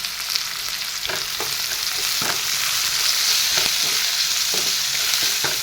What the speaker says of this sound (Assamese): এইখিনি এফালৰ পৰা লৰাই লৰাই দি দিলোঁ।